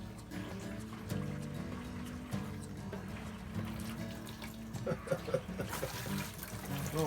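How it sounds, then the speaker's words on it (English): Water runs steadily from a newly plumbed shower, a continuous hiss and splash with a few knocks and small clatters near the end. "Shower works."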